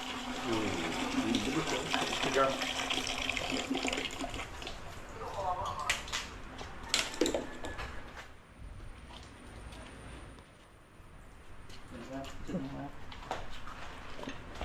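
Water gushes and splashes from a pipe, strong at first then easing off, with people talking intermittently over it.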